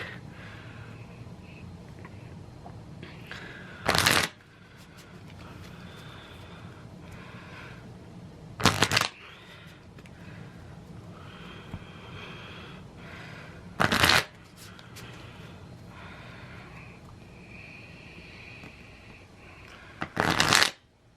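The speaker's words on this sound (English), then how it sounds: "I'm gonna go ahead and shuffle" Cards are shuffled in four quick, crisp riffles spread evenly apart, with soft room noise and faint breathing in between.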